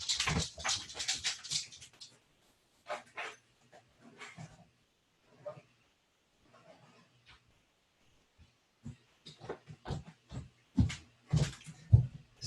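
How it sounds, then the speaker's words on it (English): A sick dog whimpers and whines indoors in short bursts, some close and fairly loud and others faint, with quiet pauses between them. "can you guys hear my dog? Like whine a little bit?"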